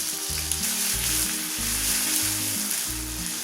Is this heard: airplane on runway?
no